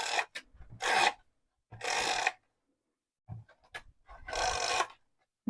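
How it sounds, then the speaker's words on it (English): An adhesive runner is pulled along the edge of card paper in several separate swipes, each a short, dry, scratchy rasp up close, with silent gaps and faint clicks between them. "I'm just going to run my adhesive along it."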